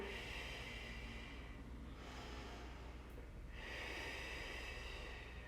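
Steady, breathy exhalations during a prenatal cardio and muscle-toning workout, with a long airy outbreath that swells, fades around the middle and then returns, close and fairly soft with no talking.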